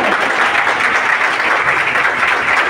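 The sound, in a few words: audience applause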